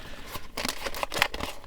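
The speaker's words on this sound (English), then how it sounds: "I gotta use the scissors on this one" Scissors snipping through diecast toy car packaging with holographic blister plastic, a quick run of sharp crisp cuts and crackling plastic, close up.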